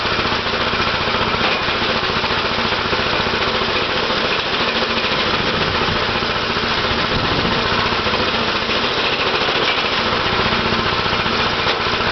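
A mini quad engine idling steadily and close, a loud, continuous buzzing rattle with a slight uneven pulse throughout.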